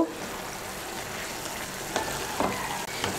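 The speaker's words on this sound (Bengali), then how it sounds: "নুনটাকে ভালো করে মিশিয়ে নেব।" Salt being stirred into bottle gourd posto in a pan, a steady soft sizzle with a few scraping spoon strokes near the end.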